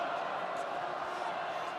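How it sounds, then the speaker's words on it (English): A stadium crowd in Edinburgh roars steadily, urging Scotland on during a rugby match against the All Blacks, a dense, sustained wash of voices from all around. "the crowd urging Scotland to defend with all they have"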